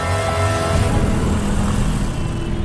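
A motorbike engine runs steadily as the rider heads off, a continuous loud motor drone with no talk over it, used as a sound effect in a Hindi horror story.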